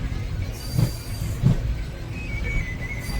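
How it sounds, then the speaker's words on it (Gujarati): Local train rumbling along rails with a steady low drone, two heavier thumps from the wheels and a faint high squeal, no voices. "બીજી ટ્રેનમાં બેસી ગયા છે"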